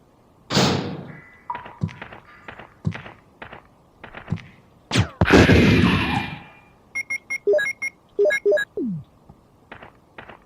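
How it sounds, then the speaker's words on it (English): A grenade launcher firing at hunters in the Dreamcast Resident Evil game: heavy thunking shots and booming blasts spaced across the scene, mixed with short metallic clicks and creature screeches. "But our grenade launcher makes short work of them, and also blows off both their arms"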